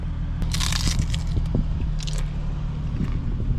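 A Taco Bell taco bitten and chewed in a car, with crisp crunchy bites up close followed by soft squishy chewing over a low road rumble.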